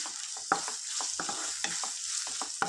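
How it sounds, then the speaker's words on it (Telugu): Green chillies and onions fry in hot oil in a pan, giving a steady close hiss of sizzling broken by several sharp crackles and scraping stirs. "ఒక ఫిఫ్టీన్ మిర్చి వేసుకుంటాను ఫ్రెండ్స్ వీటిని ఫ్రై చేసుకుందాం"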